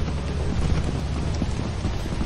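Steady rain hisses on a rainy moon in the Lethal Company video game, a dense, even wash of noise with a low rumble underneath and no voices.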